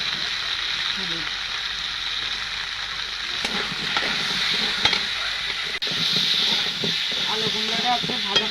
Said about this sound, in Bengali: আলু কুমড়োটা একটু ভাজা ভাজা করে নিয়েছি।